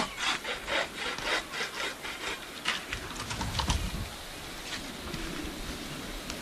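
A bow saw cuts through a small tree in snowy woods, a rapid, rhythmic rasp of back-and-forth strokes close by, with the strokes smoothing into a steadier scrape toward the end.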